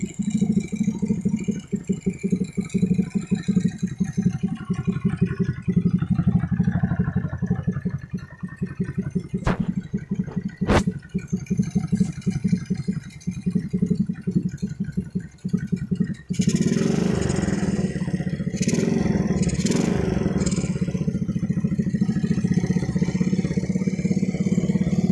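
An old Honda C70 motorcycle engine, rarely serviced, runs steadily at idle with a close, continuous putter and mechanical rattle, a couple of sharp clicks midway, then grows louder and rougher in the final stretch.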